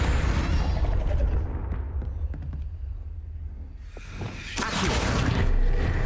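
A Confringo spell explosion in Hogwarts Legacy, a booming burst with whooshing blasts, followed by quieter crackling and then a second loud surge near the end.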